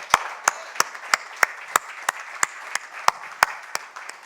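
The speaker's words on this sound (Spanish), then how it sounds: "Recíbelo con un aplauso, Señor." Slow, rhythmic clapping in a church worship service, about a dozen sharp, evenly spaced claps from a congregation, fairly close over a quiet background.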